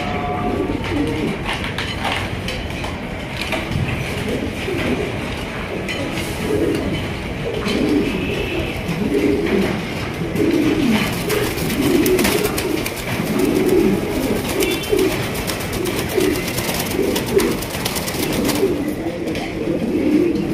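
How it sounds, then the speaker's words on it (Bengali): A pair of American fantail pigeons coo continuously in soft, low, rolling phrases, close by, against a steady background hum with no clear speech. "এখানে রয়েছে চমৎকার একজোড়া ইন্দোনেশিয়ান আপনার আমেরিকান ফ্যান্টেল কবুতর দেখতে পাচ্ছেন"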